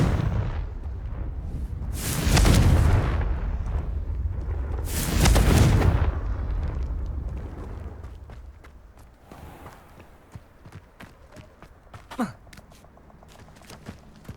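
A Confringo fire spell explosion in the video game Hogwarts Legacy, two loud roaring blasts close together, then quieter scattered crackles and thuds as things settle.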